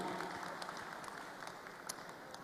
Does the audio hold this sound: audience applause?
yes